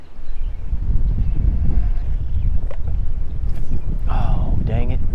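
Wind buffets a microphone while fishing for crappie from a boat in rough spring conditions, a steady low rumble throughout with a few faint higher sounds toward the end.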